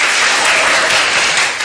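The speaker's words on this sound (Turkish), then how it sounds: "Hadi alkış hadi." Students in a classroom applauding, a short burst of dense, loud clapping lasting under two seconds.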